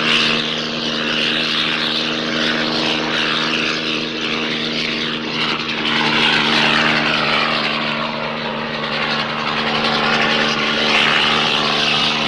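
A propeller aircraft engine drones steadily in flight, a loud, continuous tonal hum with a broad airy roar that holds evenly throughout with no break.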